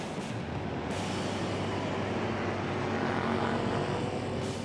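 Loud racing engines at a watercross event in Menomonie give a steady, close, unbroken roar that holds at full volume for the whole stretch, with no voices.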